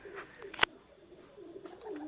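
Soft cooing of a pigeon kept in an open aviary with separate cages, a few low murmured calls with one sharp brief knock partway through, faint and close against quiet background.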